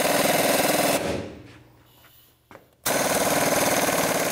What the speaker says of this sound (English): Now I'm just gonna use the tool and press out the ball joint